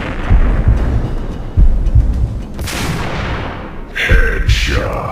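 Heavy booms from M79 grenade launcher fire in the video game Max Payne, several loud low blasts spaced through the scene with rumbling explosions and a sharp bright burst near the end.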